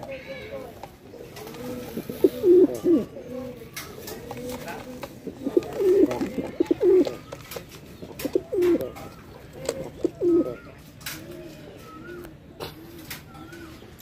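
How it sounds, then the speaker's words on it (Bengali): Bombay pigeons coo in repeated deep, throaty bursts at close range, several rounds spread across the stretch with brief pauses between them. "আমরা এই বোম্বাই কবুতরের ডাকটা আপনাদেরকে শুরুতেই দেখারও ট্রাই করলাম"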